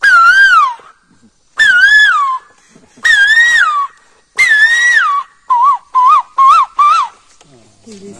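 A man whistles with his voice to imitate an Asian koel's call. Four long rising-and-falling hoots are spaced apart, then a quick run of four shorter ones, all loud, close and clear against silence.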